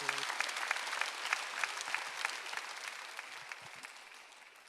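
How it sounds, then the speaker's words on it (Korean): A church congregation at a Sunday worship service claps together in steady, energetic applause, many hands close by in a continuous patter that gradually softens. "박수 좀 세게 쳐요."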